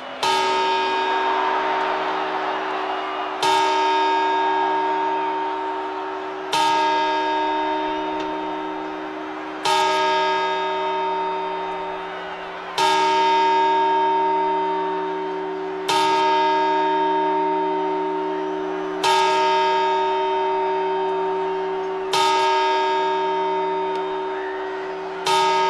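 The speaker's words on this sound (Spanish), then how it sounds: "¡Campanadas!" Deep, resonant bell chimes ring out for New Year's Eve, around nine slow strikes spaced evenly a few seconds apart. Each one is loud and sustained, with a long humming decay into the next.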